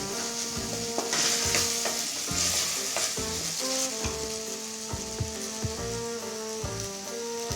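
Spice masala for dahi malai chicken fries in a pan, a dense crackling sizzle with rhythmic stirring knocks and scrapes throughout, close and steady, with no one speaking.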